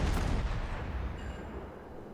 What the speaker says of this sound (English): Nice volley into the Yamato.